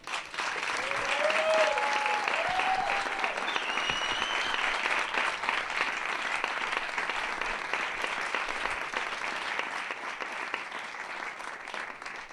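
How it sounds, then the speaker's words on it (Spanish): Sustained audience applause at a comedy stand-up show, a dense wash of clapping that starts strongly and holds steady for about twelve seconds, with a few faint voices and tonal sounds near the start. "Un aplauso para Yúnez"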